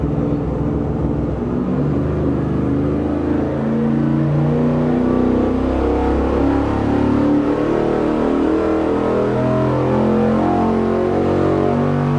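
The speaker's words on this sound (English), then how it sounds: "Our very first test saw the Weiand Air Strike on top of our little 360 Chevy" A Chevy 360 small-block V8 with a Weiand Air Strike intake, Holley 750 double-pumper carb, Comp cam and small headers with a 3-inch collector, revving hard on a dyno: a loud, steady, sustained engine roar that climbs in pitch, with no talk.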